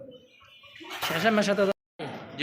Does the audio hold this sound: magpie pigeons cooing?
yes